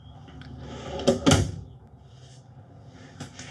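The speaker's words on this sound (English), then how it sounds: "3 more drawers to open up, the largest one here on the bottom." Drawers slide open in the kitchen of a 2025 Entegra Travel Supreme motorhome, one close, clattering pull standing out amid quieter rolling and rubbing, with a lighter knock near the end.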